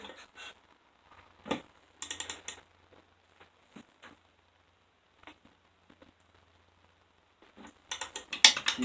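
A torque wrench set to 10 foot-pounds on a 5hp Briggs and Stratton engine rebuild gives sparse, sharp ratcheting clicks, with a louder cluster of clicks near the end amid quiet.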